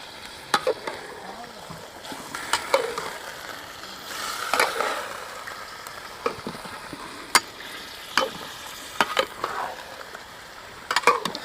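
Cooking oil heats in a pan for a village-style chicken karahi, with a faint low sizzle broken by scattered clinks and scrapes of utensils against the metal, close by and without talk.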